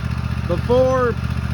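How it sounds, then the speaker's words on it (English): A Cub Cadet ZTS2 zero-turn mower engine, which has a bad coil that makes it drop a cylinder, idles with a low, throbbing rumble outdoors in a backyard while a voice briefly speaks over it. "I got the old Scrub Cadet out here running, revving up, getting warm."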